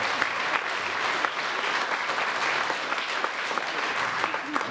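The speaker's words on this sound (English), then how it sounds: "So can we give them a round of applause?" Steady applause fills a comedy show venue at a comedy bootcamp graduation, many hands clapping in a sustained, fairly distant wash with scattered sharper claps.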